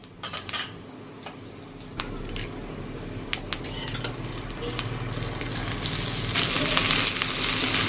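Shallots, garlic and a dried red chili with cumin seeds frying in ghee for dal curry, a steady sizzle that swells louder toward the end, broken by scattered clicks of a spoon against the pan.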